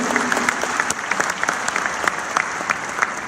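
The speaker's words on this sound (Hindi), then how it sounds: "ताली बजा रहे हो, हर्षनाद कर रहे हो" Audience applause fills the hall at the Maheshwari Global Convention and Expo in Jodhpur, a dense, steady wash of many hands clapping with scattered cheers, loud and continuous throughout.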